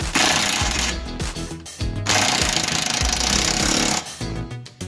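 A power tool, sounding like an impact wrench, tightens a nut on the wishbone of an Alfa Romeo 159 in loud, close bursts of rapid hammering, broken by short pauses.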